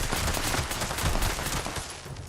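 Rapid pistol fire in Fallout 76 as a full magazine is emptied, a dense, loud stream of closely spaced shots running nonstop through the short span with no talking.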